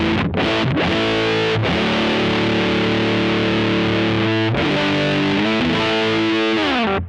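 An electric guitar plays a lead line through a Boss OD-200 pedal set to a muff-like fuzz mode. It is loud and thickly distorted, with sustained notes and a few brief breaks between phrases.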